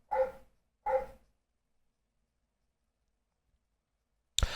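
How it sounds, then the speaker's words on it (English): Dogs bark twice in quick succession, two short, clear barks, followed by a few seconds of silence and then the start of another sound at the end. "Can you guys hear the dogs barking?"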